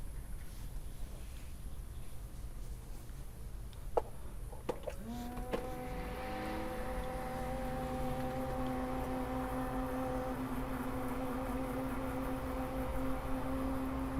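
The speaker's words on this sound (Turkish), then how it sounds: "Bir tane şurada fanımız bağlı. Bir de devir daimimiz bağlı. Bunları bir çalıştıralım." A car air-conditioning fan and coolant circulation pump start up on a Tofaş, settling into a steady whirring hum with tonal whine over a constant noisy background, preceded by a few clicks.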